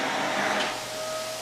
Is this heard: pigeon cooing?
no